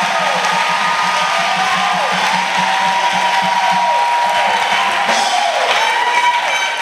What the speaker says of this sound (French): Acclamation. Clap offering.